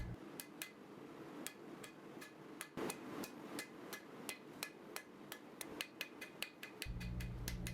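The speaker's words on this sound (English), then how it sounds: "once I was done with that I started forging the tip of the blade" Steel Kaiken dagger blade tip forged with a hammer: about twenty sharp, ringing blows close by, landing in a steady rhythm with some quick double strikes, with no talking.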